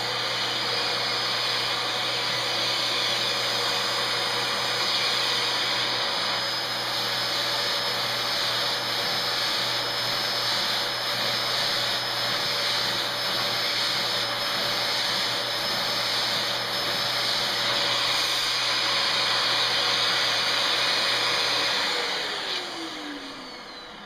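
A Dyson vacuum cleaner fitted with an upholstery tool runs in a steady, loud, high whine with a constant motor tone, close up, for the whole stretch, then its pitch sags as it shuts down at the end.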